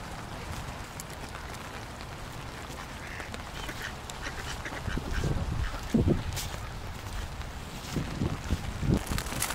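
Ducks quacking outdoors alongside small birds, scattered calls against a steady background of wind or water noise, with the louder quacks clustered in the second half.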